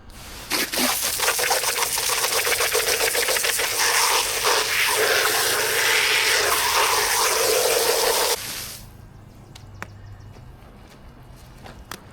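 A strong spray of water blasts dirt from an old cabriolet carpet, a loud steady hiss for about eight seconds before it cuts off to quiet background sounds.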